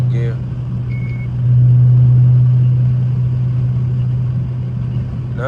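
A Dodge Hellcat engine in second gear hums low, then swells into a louder, sustained drone for a couple of seconds before easing back down.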